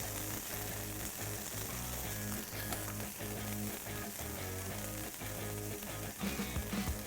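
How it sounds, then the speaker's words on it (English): Burgers frying on a griddle turned up high, with a steady, dense sizzle that runs unbroken throughout, close and fairly loud, with no talking over it. "Now I'm gonna crank this griddle up to high, and we'll get these burgers down."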